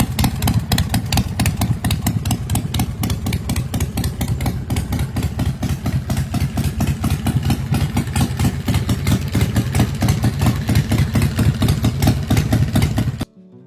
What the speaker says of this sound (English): powered by a roaring 127 Ci Ultima motor